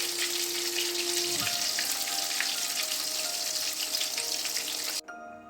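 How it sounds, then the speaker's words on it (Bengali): Chitol fish muthia dumplings frying in hot oil give a dense, close sizzle and bubbling that runs steadily for several seconds before cutting off abruptly. "এইভাবে আমি ভেজে তুলে নেব"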